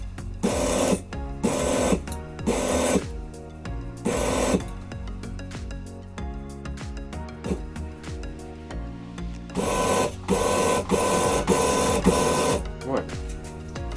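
Converted CNC mill axis driven in short steps by joypad control, with bursts of whirring stepper-motor buzz separated by pauses and a voice speaking between moves.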